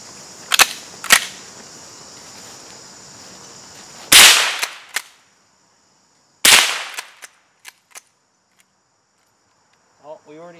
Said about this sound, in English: we'll give it a shot and we'll throw some rounds down range